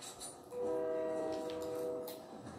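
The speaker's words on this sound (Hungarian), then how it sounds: "Közben jön a vonat" A train in the video game Fortnite sounds its horn in a sustained tonal blast over a low rolling rumble, moderately close, with no voices during it.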